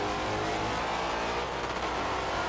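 A race car in a class race accelerates down the straight, a loud, sustained engine howl from onboard with rising harmonic pitch, rough and continuous, with a brief shift in tone midway and no talk.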